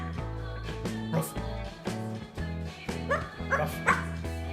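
An umbrella cockatoo mimics a dog, giving a run of short, sharp bark-like yips and whimpers at close range, spaced irregularly over a few seconds.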